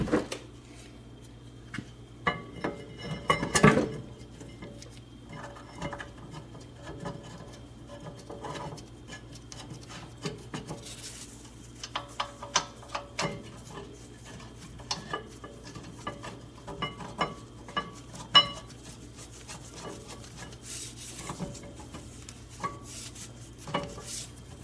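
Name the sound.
reinstalling the caliper bracket and caliper on a Toyota Sienna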